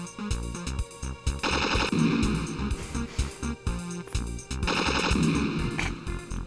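Cannon fire in a space shooter video game, loud and close: rapid bursts of repeated shots in quick staccato volleys with brief pauses between them, over a busy game soundscape.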